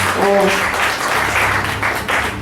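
An audience at an annual general meeting claps for the treasurer, a loud burst of applause that briefly overlaps a speaker's voice at the start.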